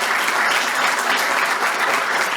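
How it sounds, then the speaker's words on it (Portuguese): Loud, dense applause from the audience after a serverless orchestration talk, many hands clapping close and continuously for the whole short stretch. "Então, palmas"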